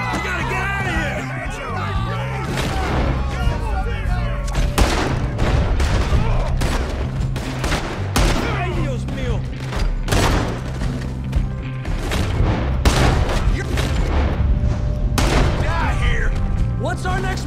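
Riverboat shootout in Red Dead Redemption 2, with dense rapid gunfire, booms and crashes going on throughout, loud and continuous, under shouting voices and a music score.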